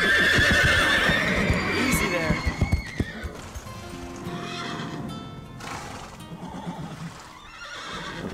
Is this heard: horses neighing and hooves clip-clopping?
yes